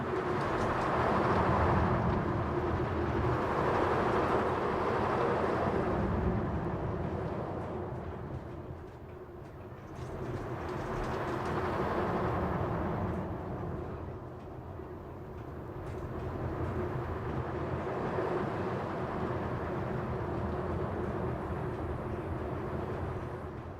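Roller coaster train in Planet Coaster 2, a continuous rumbling roar of the cars on track that swells and eases in slow waves over about twenty seconds, with no talking.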